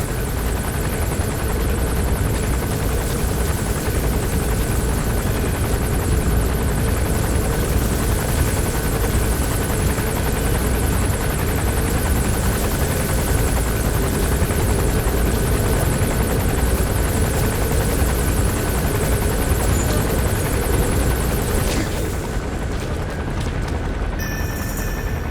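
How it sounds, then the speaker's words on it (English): A helicopter in Metal Gear Solid V sets down, its dense, roaring rotor wash holding steady and loud for the whole stretch before easing slightly near the end, with no talking. "There's a chopper landing."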